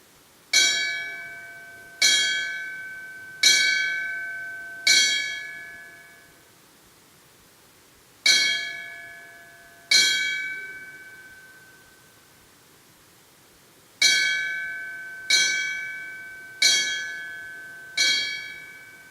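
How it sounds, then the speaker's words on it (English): A bell struck in clear single rings, grouped as four strikes, two strikes, then four strikes, each ringing out and decaying between, to dismiss a graduating class at its ceremony venue, with no talk over it. "you're not leaving this venue until the bell is rung"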